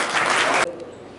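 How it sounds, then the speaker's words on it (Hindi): Loud, dense applause from an audience at a religious community gathering in a dharamshala, greeting someone stepping up to the microphone; the clapping fills the first half-second or so, then cuts off abruptly to a quiet room. "एक बार जोरदार बजा दो ताली"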